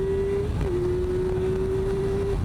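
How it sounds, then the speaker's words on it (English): Kawasaki Ninja ZX-6R (2026) engine droning at a steady high pitch, a loud continuous hum with a brief dip in tone midway, mixed with heavy wind rush at speed. "This bike hums."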